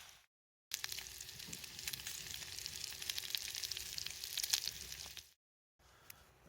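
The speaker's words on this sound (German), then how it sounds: "die Hamburgerbrötchen noch mal eben kurz anrösten" Hamburger buns toast in a frying pan over a campfire, giving off a soft, steady sizzle and crackle that carries on alone, with brief gaps of silence at the start and end.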